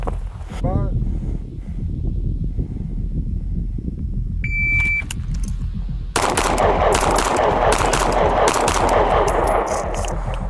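Rapid pistol shots fired in close pairs during practical combat shooting practice, sharp bursts loud in the latter half of the clip, with voices speaking through much of it.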